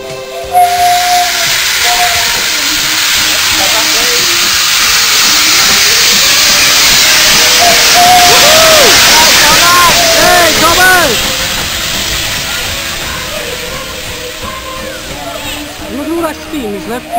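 A steam locomotive at the Gloucestershire Warwickshire Railway releases steam, a loud sustained hiss that swells and fades over many seconds, with whistle-like tones and voices in the background.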